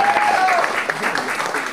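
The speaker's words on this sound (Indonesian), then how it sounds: "Tepuk tangan untuk Pak Mukhtar Muhammad" A crowd applauds steadily and loudly at a talk on Indonesian geopolitics, with a voice briefly heard over the clapping at the start.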